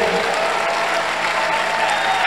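Congregation applauding at a church service, a steady, dense wash of many hands clapping together, close and continuous throughout with no break or talk.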